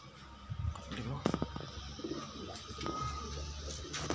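Pigeons cooing close by in low, throaty bursts amid rustling and a few knocks, with a voice speaking intermittently.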